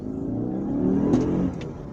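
A Landwind car's engine revs steadily and builds up during a wide U-turn, then eases off near the end, the drone loud and close with no talk over it.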